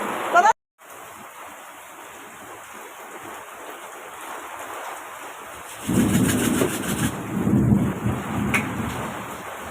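A heavy thunderstorm outside, with a constant hiss of rain. Low thunder rumbles swell during the second half.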